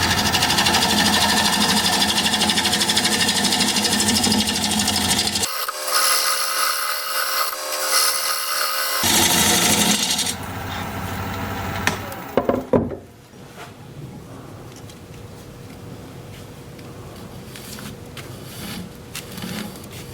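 A wood lathe turns a bowl from an unidentified wood at about 750 rpm, a loud, steady whirring hum with scraping that cuts out abruptly, leaving faint rattles, clicks and a quiet background.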